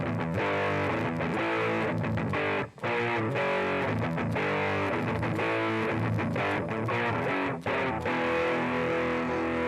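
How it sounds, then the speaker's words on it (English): Music run through a JavaScript distortion effect, heavy gritty saturated guitar-like tones played in chunky rhythmic chords with brief dropouts, loud and unbroken by talk. "Now let's try some distortion."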